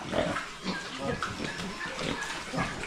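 Pig grunts and snorts come in short repeated bursts, close by, against a busy farmyard background with no talking.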